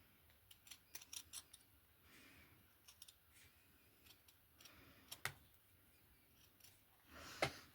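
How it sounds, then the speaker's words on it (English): Quiet, crisp snips of sharp scissors cutting ribbon come in short clusters with pauses between, ending in a louder cut, close by and with no voices. "use a very sharp pair of scissors"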